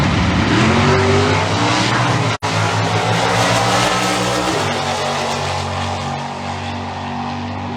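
A Pontiac Firebird stock car roars loudly down a drag strip during a stock class race, the engine revving high and shifting, with a brief cutout before the sustained roar continues and trails off.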